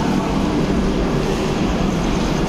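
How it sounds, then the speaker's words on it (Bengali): A train pulls out of Kokrajhar railway station, giving a loud, steady, close rumble of wheels and carriages that fills the whole stretch without any voices. "ট্রেন গুছি গেল"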